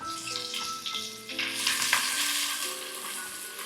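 Green chilies cut lengthwise sizzle steadily in hot oil for a Goan-Kerala style fish curry, a continuous close frying hiss with small stirring scrapes and no talking.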